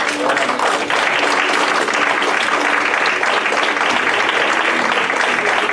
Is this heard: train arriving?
no